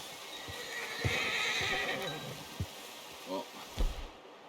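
A horse in the Western video game Red Dead Redemption 2 whinnies loudly, followed by a few scattered hoof clops and snorts at close range, with faint low ambient noise beneath.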